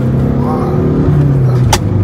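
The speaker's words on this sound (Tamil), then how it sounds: "வண்டி டர்போ சவுண்ட் வந்துட்டு அசால்ட்டாக தெரியுது" A Stage 2 tuned VW Polo TDI pulls hard in second gear near 2500 rpm, a loud close diesel drone with a rising whine as the turbo spools, ending in a brief sharp hiss.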